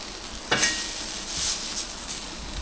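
Baigan bharta, a mashed eggplant dish, is stirred in a pan in a village kitchen: soft scraping strokes and a brief burst over a faint, constant sizzle, close by with no talking.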